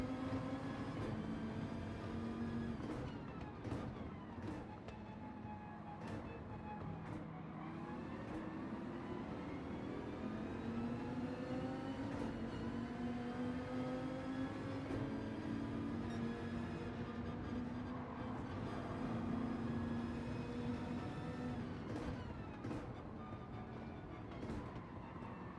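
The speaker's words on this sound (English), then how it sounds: "I can just hear constant smashing, cars squealing" Racing cars in Gran Turismo 7 lap Daytona International Speedway in a daily race, a Dodge Viper SRT among them, engines droning and shifting pitch continuously for the whole stretch with repeated sharp impacts and clatters breaking through the steady roar.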